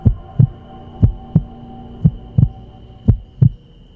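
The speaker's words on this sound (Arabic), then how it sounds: "نبضات قلبي كانت بتزيد اكتر واكتر" Steady heartbeat sound effect for a horror story, with eight evenly spaced low thumps in pairs over a faint continuous hum.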